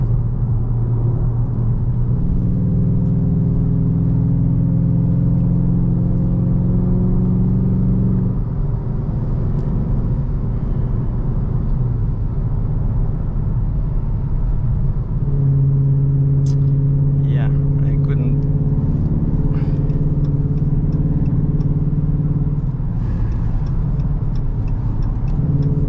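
A modified 5.7L Dodge Charger or Challenger V8 idles and revs with a deep, steady rumble that rises in pitch twice and then settles back, with a voice speaking nearby.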